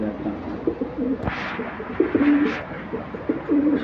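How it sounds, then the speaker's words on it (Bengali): Racing pigeons coo nearby in a low, throaty, repeated rolling rhythm, several calls in a row, with a brief flap or rustle partway through. "বাইরে তো সবসময় কবুতর ডাকতে চায় না"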